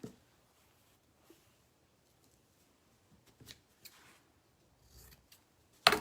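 Scissors snip through cheesecloth in sparse, quiet cuts scattered over several seconds, close by in a calm room, ending with a louder rustle of cloth.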